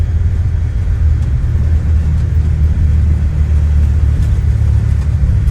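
Steady, loud, deep roar of airliner jet engines at takeoff power in Microsoft Flight Simulator, an unbroken low rumble with no voices.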